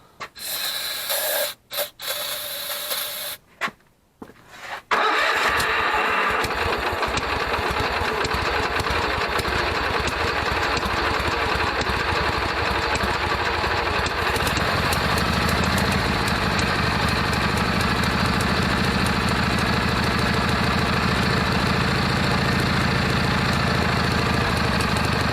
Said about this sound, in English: Maybe it just needed a little shot of starting fluid to get it fired off.